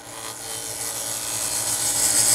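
A wood turning tool makes a smooth cut on a spinning lathe during inside-out turning, a steady hissing shear of wood that grows slightly louder over its short length, with no talking.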